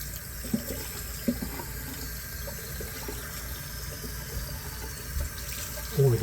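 Shaving brush rinsed under a running tap, a steady hiss of water with occasional soft splashes and knocks close by.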